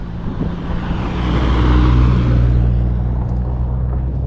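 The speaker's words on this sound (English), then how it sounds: "Car." A car passes close by on a road near the Dearfield ghost town in Colorado, its low rumble rising to a peak and then fading away.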